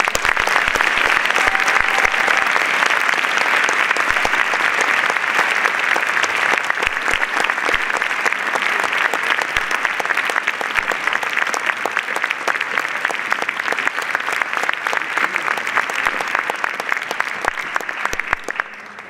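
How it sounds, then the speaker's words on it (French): An audience gives sustained applause at a film festival closing ceremony, dense even clapping from a large hall that continues steadily for a long stretch before tapering off. "je vous demande de les applaudir"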